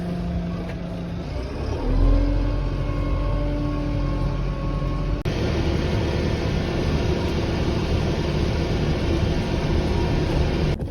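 A tractor with a mower attached drives through a muddy ditch, its engine a steady loud low rumble that rises briefly in strain before settling into a rougher, denser roar as it churns through.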